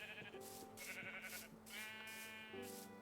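A sheep in a video game bleats several times in a row, short wavering cries that are clear and close against faint background sound.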